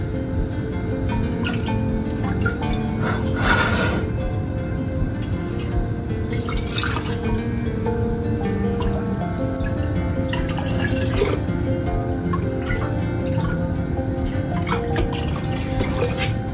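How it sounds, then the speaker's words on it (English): Liquid pours steadily into quart-sized canning jars, a continuous watery fill with dripping, close and moderately loud, with no voices. "So I'm filling these jars to a 1-inch headspace."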